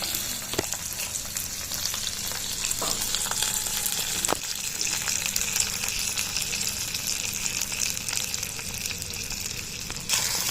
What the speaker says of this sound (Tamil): இப்போ தாளிச்சதை இதில் ஆட் பண்ணிக்கலாம்.